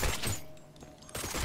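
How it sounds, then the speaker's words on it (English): Rapid gunfire while shooting zombies in a PC video game, dense bursts of shots at the start and end with a brief lull between, loud and close. "walk around and shoot zombies with absurd auto-aim"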